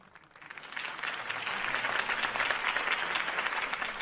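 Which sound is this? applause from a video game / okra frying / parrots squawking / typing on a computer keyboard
applause from a video game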